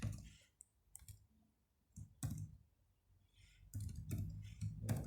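Key presses on a computer keyboard come in scattered clusters of sharp clicks with quiet pauses between, close and fairly soft, with no speech.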